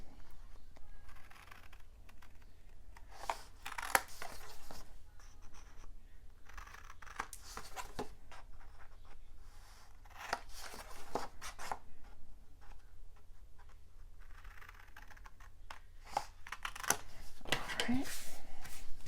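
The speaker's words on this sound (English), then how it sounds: "I'm trimming out the bottom corners as well" Scissors snipping the bottom corners of paper for a Christmas mini album, a scattering of short close crisp cuts and paper rustles spread across the stretch, with a voice talking under them.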